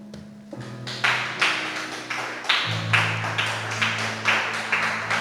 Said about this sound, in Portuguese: Então se coloque de pé aplaudindo ao Senhor Jesus.